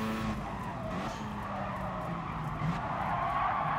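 Tires of an RX-7 skid under hard braking on sports tires in Gran Turismo Sport, a steady loud screech layered over continuous engine roar, with pitch sweeping as the car slows, no talking.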